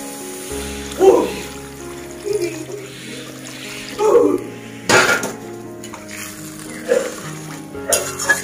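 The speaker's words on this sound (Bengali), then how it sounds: "এবার আমি এর মধ্যে জল দিয়ে দেবো।" Water poured into a pan of cooked spices while making a spicy barramundi fish curry in a home kitchen, with clanks of pots and utensils and splashy bursts spaced through a moderately loud scene.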